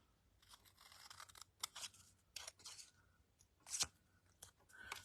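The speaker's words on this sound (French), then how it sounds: "Et je vais découper le carré en bas" Scissors snip through a small paper square for a pop-up card, a series of short, crisp cuts in irregular bursts, close and fairly quiet with no talking.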